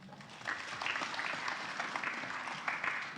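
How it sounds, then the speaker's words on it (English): Audience at a savings cooperative's annual general meeting claps steadily, a faint, continuous patter of many hands in a large room, with no clear speech over it. "So you should clap for yourselves."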